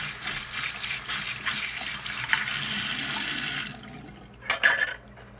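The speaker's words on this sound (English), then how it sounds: "I'm gonna rinse it off so we can start fresh." Tap water runs steadily into a white sink, rinsing away food coloring, for a few seconds before the flow stops; a brief splash follows in the quiet.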